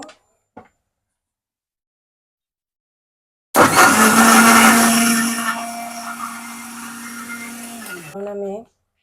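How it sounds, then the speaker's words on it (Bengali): A kitchen blender whirs loudly for about five seconds while mixing a homemade milkshake, starting with a sharp surge, settling into a steady hum and then winding down, after a few brief taps. "এখন আমি এটা এখানে ব্লেন্ড করে নিব"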